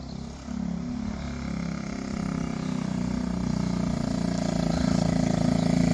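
A 1969 Honda Z50 minibike runs close by with a small engine drone that dips briefly after a gear change, then builds steadily louder as the rider pulls away.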